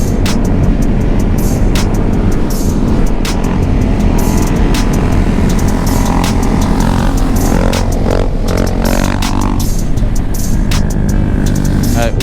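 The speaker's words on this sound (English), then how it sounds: "We literally have half of a motorcycle scene behind us." Loud, continuous engine roar from a group of Honda Grom motorcycles nearby, with rumbling and revving layered throughout and some faint voices underneath.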